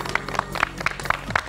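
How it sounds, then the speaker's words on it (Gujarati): Applause comes from a studio audience on a Gujarati TV cooking show. It is a short, fairly quiet run of evenly spaced claps with a brisk, regular rhythm. "તાળીઓ થઈ જાય."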